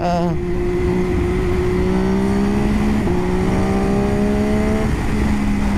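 A Kawasaki Vulcan cruiser motorcycle passes close by on a road, its engine droning steadily with rising and shifting pitch as it goes past, loud and continuous, with riders talking briefly over it.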